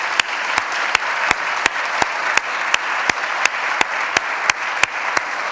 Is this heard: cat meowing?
no